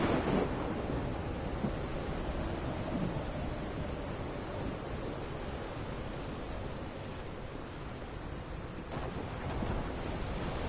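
A thunderstorm in the video game Call of the Sea, a dense, continuous rumbling wash of rain and storm noise that holds steady throughout, with a slight swell near the start and end.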